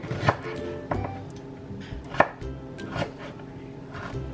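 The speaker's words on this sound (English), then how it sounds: "chop it" A knife chops jackfruit (lanka) for a Filipino coconut stew, making about five sharp, separate chops on a board at an uneven pace, close and clear, with no talking.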